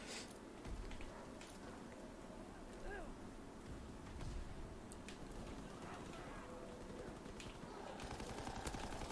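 STG 44 assault rifle fire in the World War II shooter Call of Duty: WWII, with dense rattling bursts inside a loud, continuous game battle mix throughout.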